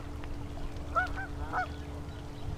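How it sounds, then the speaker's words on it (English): Geese swimming on a river on a bright sunny day give two distinct honks about half a second apart, set against a steady outdoor background hum. "there are my goose friends on the river going for a swim."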